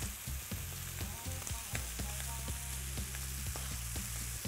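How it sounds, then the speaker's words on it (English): Meat searing in a pan, giving a continuous close sizzle and crackle with irregular spits and pops throughout. "that act of caramelizing that meat on the outside"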